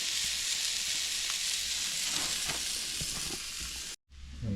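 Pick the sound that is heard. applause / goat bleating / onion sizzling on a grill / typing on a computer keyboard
onion sizzling on a grill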